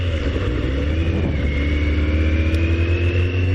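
Motorcycle pulling away from a roundabout, its engine note rising steadily as it accelerates, loud and close throughout with no talk over it.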